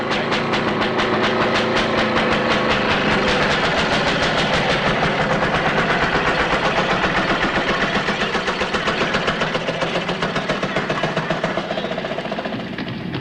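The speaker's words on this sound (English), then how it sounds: "Trains come through the tunnel." A loud, continuous rumbling roar of a train passing close by through a tunnel, with steady rhythmic clatter throughout and no voices.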